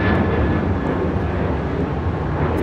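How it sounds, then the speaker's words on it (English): A Delta Boeing 737-900ER takes off from LAX, its engines producing a loud, steady broadband roar with a thin whine on top, close and continuous throughout. "811 taking off to Miami, Florida on a 737-900ER"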